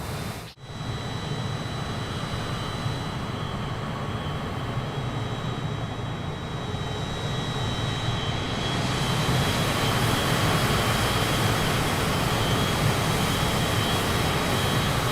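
Cessna aircraft at flight level 290 over the Himalayas near Mount Everest, a steady broadband engine and airflow roar heard continuously from inside the cabin, swelling slightly louder partway through.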